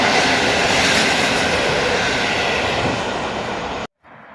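A Pesa Elf electric train pulls into Warszawa Włochy station with a loud, steady rolling rumble and rail noise, ending in a sudden cutoff.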